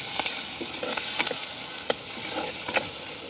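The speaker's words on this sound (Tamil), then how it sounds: "வெங்காயம், பச்சை மிளகாய், கருவேப்பிலையும் சேர்த்துக்கொள்ளுவோம். நல்லபடியாக அப்படியே பிரட்டி விடுவோம்." Onion, green chilli and curry leaves sizzle steadily in hot oil in a village kitchen, with a spoon scraping and turning them in the pan in irregular, close clinks.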